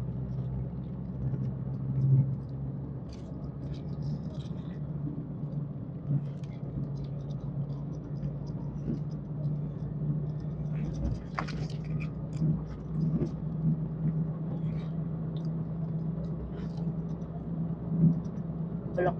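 A slow car moving along a road on the way back to a home village, its low engine and tyre rumble continuous and fairly close, with small clicks and taps scattered over it.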